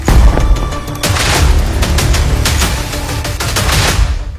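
Rapid booming blasts and crackling bursts of fire in the dark sky during an Iranian missile strike at night, a dense, loud barrage of repeated detonations filling the whole stretch with no pauses.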